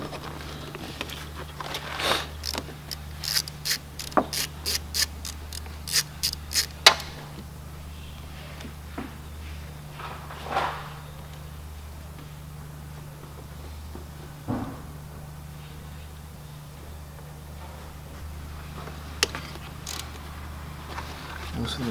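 A hand ratchet loosening 8mm bolts during a 2012 Ford Fusion water pump replacement: rapid bursts of metallic clicking in several runs, then sparse clicks and knocks, fairly close, over a steady low hum.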